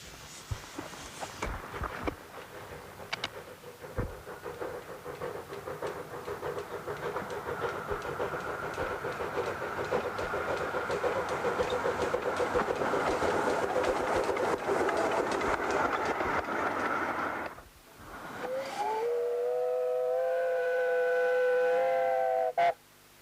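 A 15-inch gauge Anglo-Indian design locomotive runs on Norfolk's Bure Valley Railway, its steady rumble and clatter building and holding loud, briefly dipping, then continuing with a sustained whistle-like tonal sound near the end.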